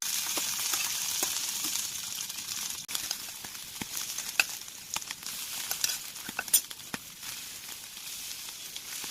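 Chicken pieces fry in hot oil with a constant bright sizzle, dotted with small pops and crackles that flare up irregularly toward the middle.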